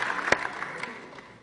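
A small group claps after an oath is sworn at a Dutch council meeting, a brief light patter of hands heard from a short distance that fades out within about a second.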